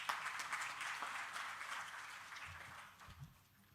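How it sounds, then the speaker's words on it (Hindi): Audience applause at a Delhi government health event inaugurating new Ayushman Arogya Mandir clinics, sustained and fairly even for several seconds before tapering off, with no speech over it. "जोरदार तालियों से उनका स्वागत करेंगे।"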